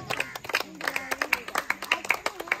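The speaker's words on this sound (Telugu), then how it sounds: "గట్టిగా క్లాప్స్ కొట్టండి, గట్టిగా క్లాప్స్" An audience claps at a village rangoli contest prize event, a thin, fairly close patter of separate hand claps in an uneven rhythm, from a small group rather than a large crowd.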